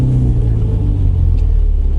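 A Mini Countryman S engine starts and settles into a steady low rumble close by, heard from inside the cabin with the windows shut.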